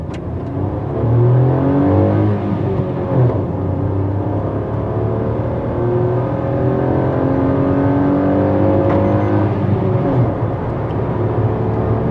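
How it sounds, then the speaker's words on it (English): A 2021 Maruti Suzuki Celerio hatchback's 3-cylinder engine revs up and holds high revs, a loud, close, steady drone with rising and falling pitch sweeps and no talking. "this engine actually sounds quite good"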